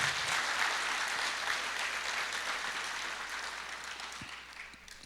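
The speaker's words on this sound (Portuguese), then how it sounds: "Pode aplaudir." Church congregation applauding, a dense, steady wash of clapping from many hands that fills the room and tapers slightly toward the end.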